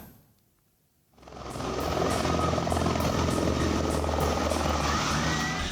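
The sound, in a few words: helicopter landing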